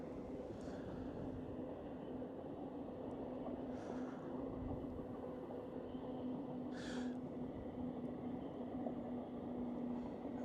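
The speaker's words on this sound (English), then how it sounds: "there's a train over there" A freight train rumbles past at a distance in the South Yorkshire countryside, a steady low drone with a faint sustained hum running throughout under open outdoor air.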